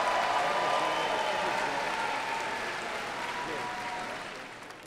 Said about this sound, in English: Please give a round of applause for the 2017 Master of Public Administration graduating class.